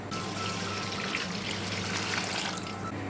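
Steady, close pour of one litre of water into a bowl for homemade Neapolitan pizza dough, a continuous splashing rush lasting the whole moment with no talk.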